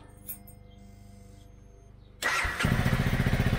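Quiet ticking at first, then a Honda CRF300L dirt bike fires up and settles into a fairly muted, even stock exhaust burble, close to the listener.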